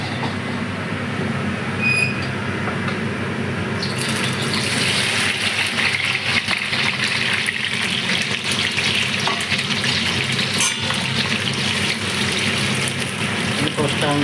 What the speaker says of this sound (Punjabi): ਤੇਲ ਵੀ ਗਰਮ ਹੋ ਚੁੱਕਿਆ ਹੈ ਹੁਣ ਆਪਾਂ ਇਹ ਪਾਵਾਂਗੇ ਗਲਗਲ